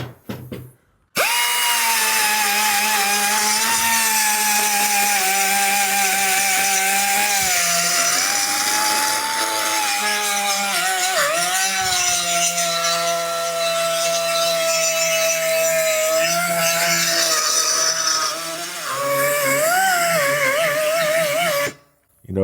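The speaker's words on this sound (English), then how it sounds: "See how much easier the cast iron cuts than actual steel?" A power saw runs continuously for about twenty seconds, cutting through a cast iron exhaust manifold for a 1937 Lincoln Zephyr, loud and close with a steady whine that shifts pitch slightly as the blade loads and eases.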